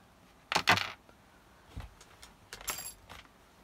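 Wire cutters snip back the coiled wires of an old portable four-way socket board, heard as a couple of sharp metallic clips close up, then quieter handling clicks and a final crisp snip.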